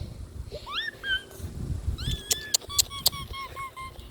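A cat meows several times in rising and falling cries, fairly close, with some faint background rumble and a few sharp clicks between calls.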